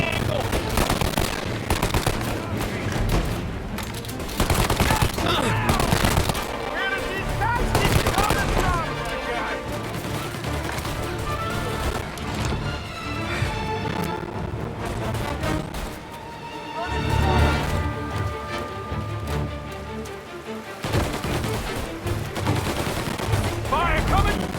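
Repeated gunfire fills a firefight in the video game Mafia Definitive Edition, with dense bursts of automatic shots and single cracks over nearly 25 seconds, overlapping shouted voices throughout.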